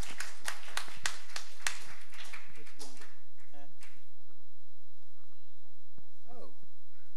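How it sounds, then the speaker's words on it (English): A church congregation at a camp meeting claps hands in a brisk burst of sharp, close slaps that quickly trail off into scattered sounds and murmurs. "I hope if y'all give her a good hand clap"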